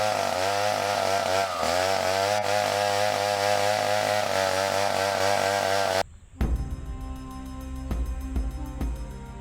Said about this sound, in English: As adept as this man is with a chainsaw, he is not aware he is sawing away at the branch he's sitting on